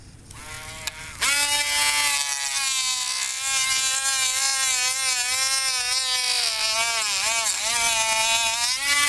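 A high-speed rotary power tool cuts a plastic part of a Nerf Nite Finder blaster, its steady whine starting with a click and wavering in pitch as it bites, loud and close.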